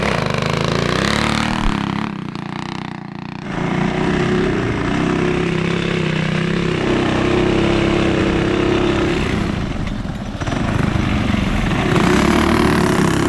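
An old TrailMaster MB-200 minibike with upgrades runs hard on a hot lap, its engine droning loud and close, rising and falling in pitch with a brief dip in revs partway through.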